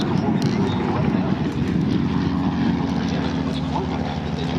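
An RV aerobatic airplane with a roughly 250-horsepower propeller engine drones steadily at an airshow at EAA AirVenture in Oshkosh, Wisconsin, a continuous sustained hum with an announcer talking over it.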